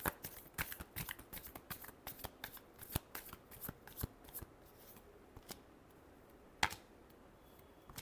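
Tarot cards being shuffled by hand, a close run of crisp riffles and flicks in irregular bursts with a sharper snap near the end, fairly quiet and with no talk.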